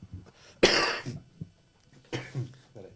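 Two sharp, breathy coughs a second or so apart, close and fairly loud, with faint murmuring around them.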